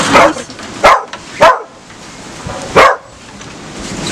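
At an animal shelter, a dog named Belchik barks from its kennel: four sharp, loud barks spread unevenly over a few seconds, with quiet pauses between them.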